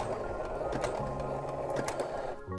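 A sewing machine runs at a steady, continuous whir while stitching stretchy fabric pieces, loud and close, easing off only at the very end.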